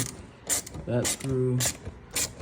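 A ratchet with an 8mm socket turns a screw on a Hellcat Jailbreak's Corsa intake, giving a few short, close mechanical clicking bursts separated by brief pauses, with a faint voice in the background.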